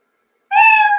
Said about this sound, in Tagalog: pag narinig nyo na yung pusa na nag-meow, yun, success.